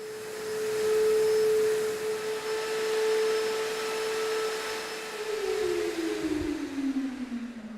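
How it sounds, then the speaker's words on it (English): Industrial vacuum cleaner running over a dusty floor before primer goes down, a loud, steady motor whine with a droning tone that sags lower near the end as the machine is moved, no talking. "Industrial vacuum cleaner to make sure that we've got the last bit of dust off the floor"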